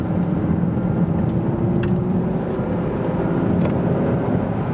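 A 2017 Audi TT RS with a 400 hp five-cylinder engine drives through town, heard as a steady low engine and road drone with faint higher whooshes, loud and constant with no talk.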